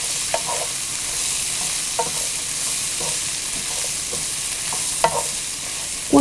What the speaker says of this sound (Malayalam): ഇനി ഇതിലോട്ട് നമ്മൾ വേവിച്ച് വെച്ചിരിക്കുന്ന ഉണക്ക ചെമ്മീനിട്ട് ഉലർത്തിയെടുക്കുക.